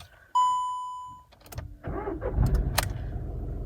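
A VW Polo TDI diesel started from inside the closed cabin: a clear electronic chime rings first, then the starter cranks and the diesel catches into a muffled, steady idle.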